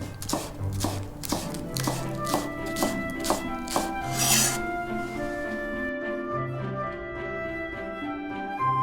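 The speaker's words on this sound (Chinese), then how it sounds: "取1颗香葱切成葱花作为装饰" A knife chops a spring onion into scallion pieces on a cutting board, with a steady run of crisp, close chopping taps that slows and then stops, leaving quiet background with a faint tone.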